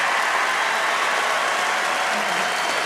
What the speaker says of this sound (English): please give one last loud applause for Mama T, Miss Tina Knowles